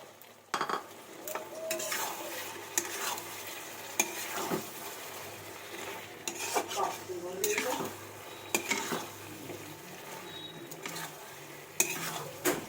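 Paneer cubes go into hot oil and are stirred with a metal spoon. A steady sizzle runs under repeated clinks and scrapes against the pan at an irregular pace.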